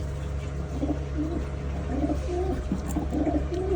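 Soft, repeated pigeon coos in low rounded phrases, fairly close, over a steady background hum.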